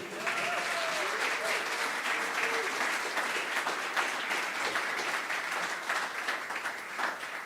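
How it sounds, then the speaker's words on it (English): An audience at a corporate brewing-company event applauds a newly revealed logo, with sustained, even clapping that fills the room and holds a steady level throughout. "Please clap it up for the logo again."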